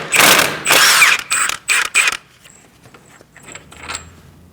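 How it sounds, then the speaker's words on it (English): Ratchet wrench with an inverted Torx socket loosening the front CV axle bolt on a 2008-2014 Mercedes-Benz C300 3.0L V6, a loud close run of metallic clicking bursts, then faint scattered ticks. "now we're going to remove our axle bolt"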